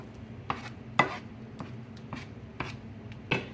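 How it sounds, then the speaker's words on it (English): Shrimp are stirred into a stuffed potato mixture, giving about six soft, quiet scraping strokes of a utensil at a loose, even pace with little else around. "And stir them in."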